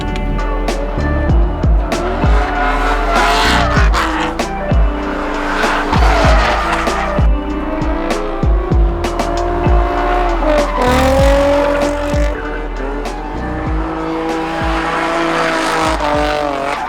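A Nissan Z drifts on a track parade lap, loud engine revving with rising and falling pitch and tires squealing throughout, close and continuous.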